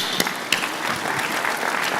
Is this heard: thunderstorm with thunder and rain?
no